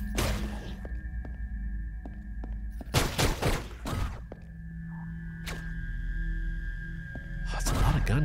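Enemy gunners firing in Hyper Light Drifter, a few sharp bursts of synthetic gunfire and whooshing shots amid droning game music, with someone talking in between.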